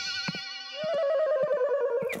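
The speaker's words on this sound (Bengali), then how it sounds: "মোবাইলের বদলে এই ল্যান্ডলাইনে আমাকে আবার কে ফোন করেছে?" A cartoon landline telephone rings with a bright, repeating electronic trill that holds steady for about two seconds, loud and close, with a few soft knocks underneath.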